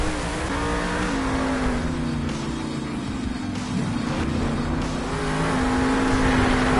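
El Toro Loco monster truck roaring at a Monster Jam stadium show in Anaheim, the engine loud and close, revving up and down and surging again near the end.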